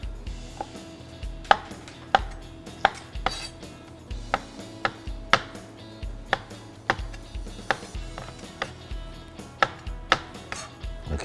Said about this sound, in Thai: เห็ดสดมากๆเลยล้างมาเรียบร้อย ผมก็จะหั่น